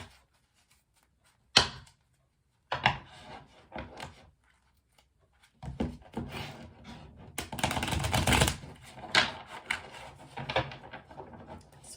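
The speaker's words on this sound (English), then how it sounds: "Sorry about that clunk earlier. Just dropped a couple of stones on the floor" A couple of stones drop onto the floor, giving one sharp clunk followed after a pause by scattered knocks, shuffling and rustling handling noises, all close by in an otherwise quiet room.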